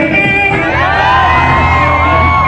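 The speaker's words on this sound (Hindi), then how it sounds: "पीछे खड़े हुए वाले तो चिल्ला रहे हैं" A large audience at a live outdoor singing event in Jaipur cheers, whoops and shouts loudly and continuously, a dense roar of many voices with higher yells rising over it.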